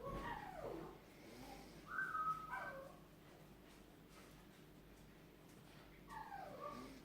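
Puppies whimper faintly in short, high, wavering whines, one burst at the start, another around two seconds, and a last near the end, with quiet gaps between.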